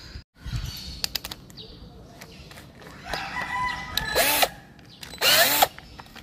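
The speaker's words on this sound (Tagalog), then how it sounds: "Ayan, i-drill natin dyan." A power drill bores into the bumper of a Honda Jazz GD to fit a reverse parking sensor. Short whirring bursts build to two loud, high-pitched grinding runs, with a rooster crowing in the background.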